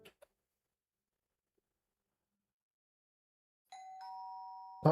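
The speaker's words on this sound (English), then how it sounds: "Doorbell." A doorbell chime in a video game rings out alone after near silence, a clear electronic ding-dong tone sustained for about a second with a brief louder burst at the end.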